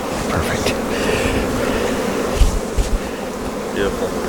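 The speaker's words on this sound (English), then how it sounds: "Lots of bees for the builder." Honey bees swarm and buzz loudly around an open hive during a spring colony split, a thick, constant drone close to the microphone with a few soft knocks of hive equipment partway through.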